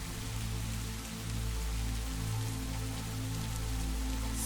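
Steady, dense rain falls on a surface as an even, continuous hiss with no break, alone and fairly close.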